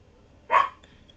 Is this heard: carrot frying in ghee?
no